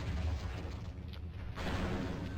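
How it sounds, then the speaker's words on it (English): Enemy explosions in the video game Fire Warrior, a continuous rumbling barrage of booms with a brief dip in the middle, dense and loud throughout. "they're firing explosions, and as you can see, sometimes they damage me through the walls"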